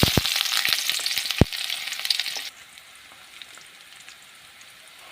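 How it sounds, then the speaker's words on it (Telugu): Garlic and onions fry in a pan with a loud, dense sizzle and crackle and a few sharp pops. The sizzle drops abruptly halfway through to a faint, quiet hiss. "ఎల్లిపాయలు వేసుకుంటున్నా నెక్స్ట్ ఆనియన్స్ వేసుకుంటా"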